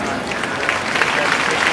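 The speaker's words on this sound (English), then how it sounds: "Please clap your hands." An audience claps at a school annual function, a dense, continuous patter of many hands at a steady level across the short moment, with faint voices mixed in.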